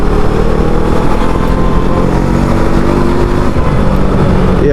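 A Brixton Crossfire 500XC motorcycle engine holds a steady high rev near 5000 RPM, loud and close, a dense continuous drone with no talk over it.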